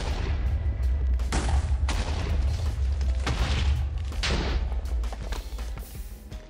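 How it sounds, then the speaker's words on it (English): TNT blocks detonating in Minecraft while mining for ancient debris, a continuous low rumbling roar of repeated blasts with several sharper bursts layered on top, loud and close throughout. "Just gotta keep blowing up this TNT."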